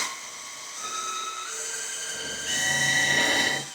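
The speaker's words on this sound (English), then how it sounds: "I'm going to use a 5/8 drill bit because I want the corners to be round" A power drill with a 5/8-inch bit bores into wood, a steady high whirring whine that rises in intensity partway through before cutting off near the end.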